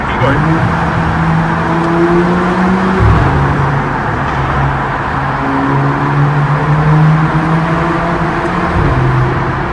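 A Mercedes-AMG A45 engine drones loudly and rises in pitch as it accelerates, with gear changes, heard from inside the car while it is in limp mode. A voice talks briefly over it.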